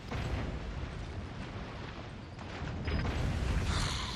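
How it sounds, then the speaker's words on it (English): A dragon breathes fire in Resident Evil 4, a continuous roaring, rumbling blast of flame that holds steady and then swells louder near the end, with no talking. "Dragon. It's a dragon. He's a dragon. Fire breathe. Fire breathe."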